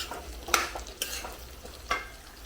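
Bilimbi sautéing in oil over a medium flame for a pickle, a soft steady sizzle broken by a few sharp scrapes and knocks of a stirring spoon against the pan.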